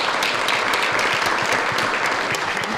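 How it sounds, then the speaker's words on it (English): A town meeting audience gives a loud, steady round of applause, dense clapping sustained evenly throughout with no pauses. "Just a round of applause for everybody."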